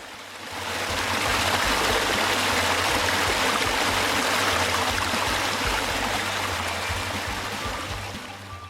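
Creek water flowing down a wet bush track on Hinchinbrook Island in North Queensland, a steady close rushing and gurgling that stays continuous throughout with no talk over it.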